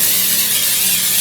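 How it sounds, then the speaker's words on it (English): Cooking spray hisses from a can into a baking pan in one close, steady burst lasting about a second. "I'm just gonna give it a quick spray with some cooking spray"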